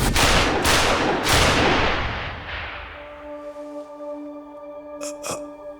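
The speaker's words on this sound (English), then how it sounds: "He's gonna shoot Hamura." Gunshots ring out in the Judgment video game: three sharp, loud cracks in quick succession, with echoing tails that fade into a sustained tone, followed by two more brief snaps near the end.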